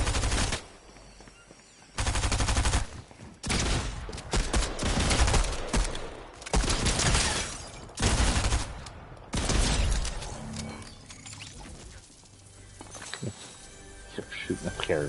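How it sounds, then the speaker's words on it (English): Rapid bursts of video game gunfire from Fortnite rattle out in repeated loud volleys with short pauses between them, shooting at a character, mixed with other game sounds. "Shooting a character."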